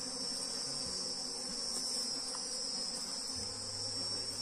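Steady, faint high-pitched buzzing of honeybees swarming around an opened beehive, a continuous insect drone with no voices.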